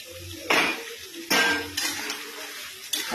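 Meat goes into a pan while butter chicken cooks, giving several sharp clattering bursts of metal and crockery with a brief sizzle between them.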